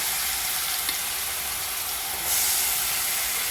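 Grated long pumpkin sizzles loudly in hot ghee, a steady close frying hiss that swells slightly as more pumpkin is added.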